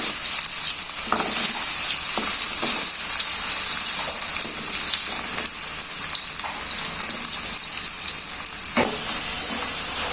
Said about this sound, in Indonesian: di sini untuk kentangnya ini saya goreng dulu